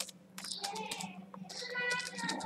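Keys clatter on a computer keyboard while an email subject line is typed in Outlook 2007, a steady patter of close, quick keystrokes that runs throughout with a short pause in the middle.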